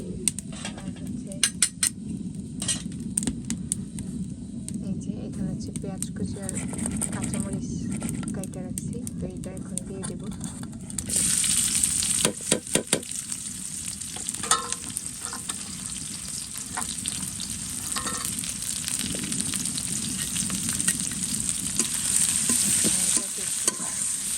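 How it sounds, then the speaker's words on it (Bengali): Cinnamon, cardamom and chopped onion frying in hot oil, a steady close sizzle that swells louder partway through as a utensil stirs and scrapes the pan, with someone talking over it. "প্রথমে তেল দিয়ে দিছি এখন হচ্ছে দারচিনি এলাচ দিয়ে দিলাম আর পেঁয়াজ কুচি"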